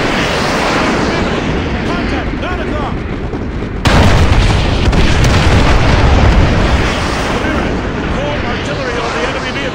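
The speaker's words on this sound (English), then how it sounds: "Fire mission received. Artillery inbound." Artillery barrage in Call of Duty: Modern Warfare 2 Remastered, a loud, dense wall of booming explosions and blasts rolling on without pause, with a sharp surge partway through, mixed with voices talking.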